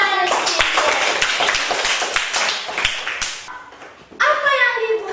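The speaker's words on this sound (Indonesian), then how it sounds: "tepuk tangan untuk Cynthia" Children in a fourth-grade classroom clap together for a classmate, a burst of quick, close hand claps lasting about three seconds, followed by a pause and then an adult voice speaking.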